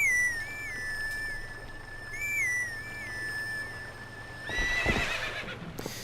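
In the Zelda game Twilight Princess, Epona's song plays as a reedy melody on horse grass, then Epona the horse answers with a short neigh and hoof clatter near the end.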